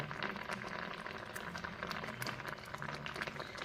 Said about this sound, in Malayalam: അപ്പോൾ ഇതിവിടെ തിളച്ച് വരുന്നുണ്ട്